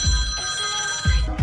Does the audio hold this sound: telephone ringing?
yes